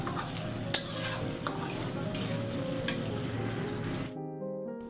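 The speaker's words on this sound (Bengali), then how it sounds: "মশলা যতগুলো আছে জিরা গুঁড়া মরিচ হলুদের গুঁড়া সব কিছু দিয়ে এখন কষাবো" Potatoes stir-fried with ginger, garlic, cumin, chili and turmeric powder: a spatula scrapes and knocks in a sizzling pan in quick repeated strokes, then the sound cuts off abruptly near the end.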